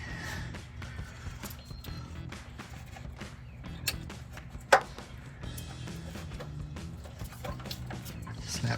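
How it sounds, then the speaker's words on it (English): A ratchet tightens bolts while Morimoto XB LED projector fog lights are installed on a 2007-2016 Chevrolet Silverado 1500 truck, making a series of close, quiet clicks with a few sharper metallic knocks. "Now tighten the bolts."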